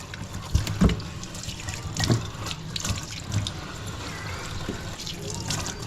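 Water running from a sink tap at a plaza renovation site, a steady splashing flow with a few louder bursts and gurgles, fairly close.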